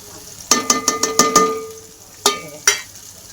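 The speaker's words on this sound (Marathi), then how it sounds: "सगळे मसाले तळून घेऊ चांगले" Spices frying with onion and tomato in a pan: a run of six quick metallic spoon clanks against the pan, a pause, then two more sharp taps over a faint sizzle.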